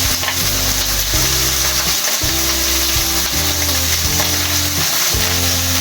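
Raw banana pieces fry in a pan of hot oil, giving a continuous close, loud sizzle, broken by a few clunks and shifts as the pieces are stirred, with no talking.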